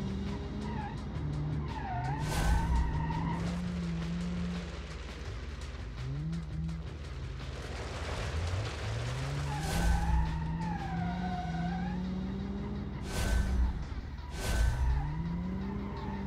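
A rally car from a 1985 rally challenge in BeamNG.Drive revs and accelerates, its engine tone rising and falling, while tires squeal and skid in several sharp bursts over a steady background rumble.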